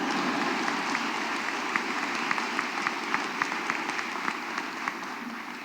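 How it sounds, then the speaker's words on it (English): An audience at a law school commencement ceremony applauds, a steady wash of many hands clapping at moderate distance with a few sharper individual claps standing out, sustained throughout. "go ahead and clap"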